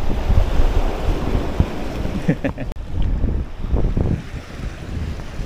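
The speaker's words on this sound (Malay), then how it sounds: "angin kuat" Strong wind blows outdoors by the sea, a low, buffeting roar against the microphone with a brief clattering knock midway and steady gusting throughout.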